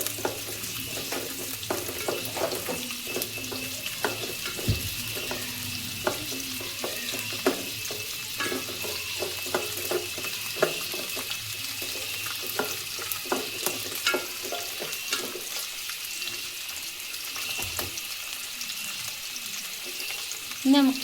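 Slit green chillies frying in oil give a constant close sizzle, with frequent spoon scrapes and clinks against the pan throughout.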